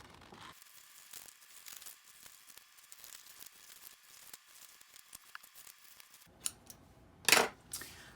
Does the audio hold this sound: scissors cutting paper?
yes